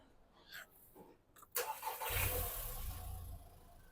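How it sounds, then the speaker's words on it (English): A VW Polo 1.2L with timing trouble cranks briefly and fires up, settling into a rough, steady idle after a quiet pause with faint handling noises. "let's start it up"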